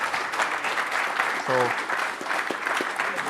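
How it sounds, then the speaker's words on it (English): Audience applause at the 2021 Salt Summit, a steady crowd clapping that fills the clip at moderate level, with a brief spoken word from a presenter over it. "Tim's excitement and motivation deserves a round of applause"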